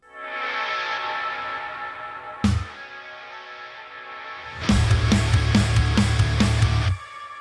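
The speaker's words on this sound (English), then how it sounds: "I also use that effect to make a whip effect" Electric guitar whip transition effect in a tone setup: a swelling washed-out chord, a sharp sweeping swoosh near the middle, then a loud heavy chugging section with rhythmic stabs that cuts off abruptly.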